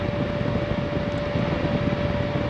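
A steady, loud rushing roar of water heater exhaust through a 2-inch pipe with a constant high hum, continuous and unchanging throughout.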